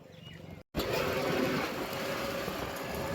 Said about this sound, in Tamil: ஓகே, வண்டி ஸ்டார்ட் ஆக போகுது.